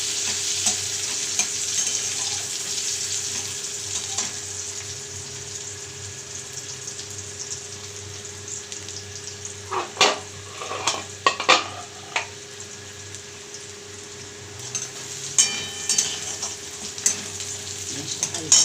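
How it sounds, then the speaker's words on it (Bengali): Onion frying in oil with whole cumin seeds and bay leaf gives a steady, close sizzle, with clusters of sharper stirring scrapes later on. "পেঁয়াজটা ভাজা হচ্ছে"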